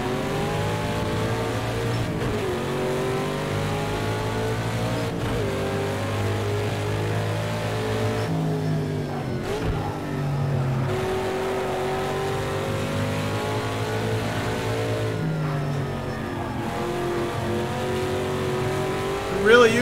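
A race car engine in Project Cars 2 revs hard and steadily, its loud droning tone climbing through the gears with brief dips at shifts, while a voice talks over it at times.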